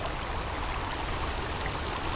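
Steady flowing water in a cave stream from the survival game The Forest, a continuous broadband rush that stays even and fairly close throughout, with no voices.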